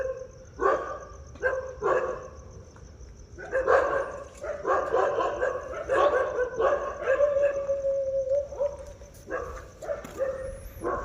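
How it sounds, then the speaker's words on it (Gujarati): Several dogs bark and howl at night in a lane, drawn-out overlapping cries, fairly near, with a steady high insect-like whine in the background. "બહુ કૂતરાનો અવાજ ચાલે છે"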